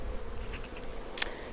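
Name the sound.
honey bees buzzing at an open hive frame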